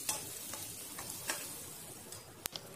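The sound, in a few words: crushed garlic frying in oil in a pan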